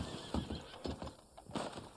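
Horses in the video game Red Dead Online give short snorting neighs and thuds of hooves, several uneven bursts over a faint mechanical background.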